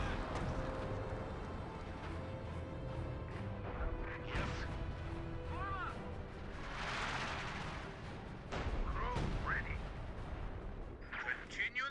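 Artillery fire in the video game Company of Heroes 2: heavy booms and crashing impacts scattered across a busy battlefield soundscape, with a steady rumble underneath and a commentator talking over it.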